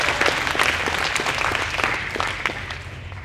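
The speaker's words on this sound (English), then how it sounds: "Can we get one more round of applause for people who came up and showed all their courage and presented wonderful speeches?" Audience at a middle school prize day ceremony applauding, a dense, steady wash of clapping that fills the whole stretch at an even level.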